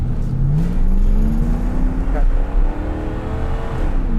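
A white 1982 Corvette's engine revs hard, its loud rising drone climbing steadily toward the red line, with a brief dip midway before pulling on strongly, heard from inside the car.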